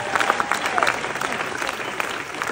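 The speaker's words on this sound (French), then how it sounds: "applaudissez s'il vous plaît" Applause from an audience at a French-language speech event, a steady wash of clapping at moderate level with a few voices mixed in.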